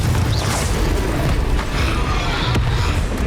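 Confringo fire spell exploding in Hogwarts Legacy, a loud rumbling boom with mechanical creaks and crackles that roll on continuously, with a brief sharper burst near the end.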